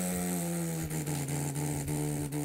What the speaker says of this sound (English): I'm gonna just double check and make sure engine and everything's gonna work